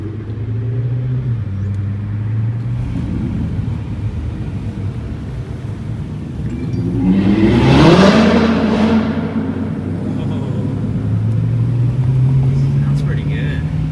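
A C7 Corvette with a Corsa Extreme full exhaust and X-pipe gives a deep, steady rumble that swells into a loud rev midway, then settles back to a low idle-like drone.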